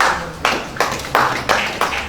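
An audience claps at a business opportunity expo, a few loud, close rounds of hand claps arriving in short repeated bursts with brief dips between them.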